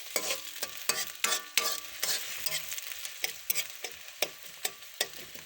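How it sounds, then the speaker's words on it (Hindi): Onions frying in a kadhai for a quick potato bhujia, stirred with repeated sharp scraping strokes over a steady close sizzle, no voices. "हमने प्याज को जो है वो कढ़ाई में डाल दिया है। इसे हल्का सा ब्राउन करेंगे।"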